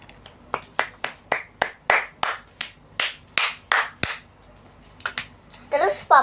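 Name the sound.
clapping imitating someone clapping in the street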